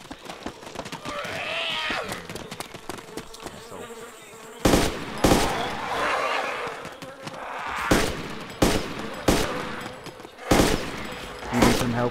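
Gunfire in the survival video game DayZ, several loud, close, sharp shots spaced irregularly over a buzzing insect-like ambience, with people talking in between.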